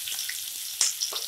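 Two large, finely chopped onions dropped into hot oil, frying with a busy crackling sizzle and a few sharper pops and stirs over a short stretch.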